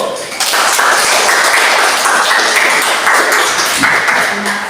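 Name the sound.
classroom applause, clapping hands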